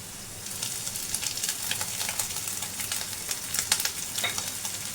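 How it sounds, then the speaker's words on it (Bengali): Potatoes frying in oil in a pan with bay leaf and cumin seeds for a Bengali banana-flower dish, a steady close sizzle with crackling pops and occasional stirring, no talk. "আলুগুলো ভেজে নেব লাল করে, যাতে তা সিদ্ধ হতে সময়টা কম লাগবে।"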